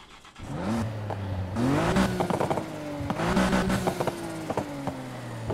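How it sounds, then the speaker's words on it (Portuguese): A Nissan Skyline GT-R R34 engine in the video game Need for Speed Heat revs up and down repeatedly, its exhaust note rising and falling in pitch with throaty bursts, loud and close. "Deixa eu ver o som do escapamento."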